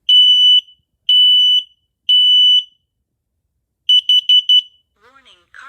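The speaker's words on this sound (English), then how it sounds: "that's basically the unboxing of a fire alarm." A newly unboxed combination smoke and carbon monoxide alarm sounds three long piercing beeps, then a quick burst of four shorter chirps, loud and close, followed by faint handling noise.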